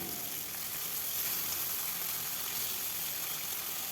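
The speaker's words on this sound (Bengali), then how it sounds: "লবণ হলুদ মাখা মাছগুলো এখন ভেজে নেব।" Prawns coated in salt and turmeric fry in hot mustard oil in a kadai on a gas stove, giving a dense, even, close sizzle that holds steady from start to finish with no voices.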